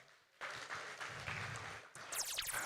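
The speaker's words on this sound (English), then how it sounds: "Give yourself a round of applause." Audience applause at a music certificate ceremony, starting abruptly and continuing as a steady wash of clapping, fairly faint and distant, with some brighter sounds near the end.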